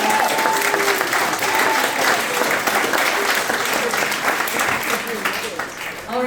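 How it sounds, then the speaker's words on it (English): An audience at a political caucus event applauds after a lightning round, a full, continuous wash of clapping with some crowd voices mixed in, holding steady before tapering slightly at the end. "Let's have a round of applause."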